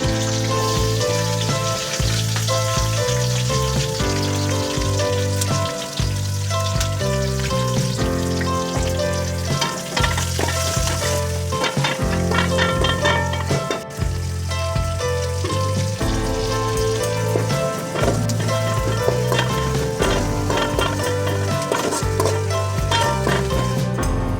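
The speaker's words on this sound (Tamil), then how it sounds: "கருவேப்பிலை, கொத்தமல்லி தழை போடணும். அடுத்த வெங்காயம் போடணும்." Onions, curry leaves and coriander leaves frying in oil for a crab gravy give a steady, loud, close sizzle lasting throughout, with music playing over it.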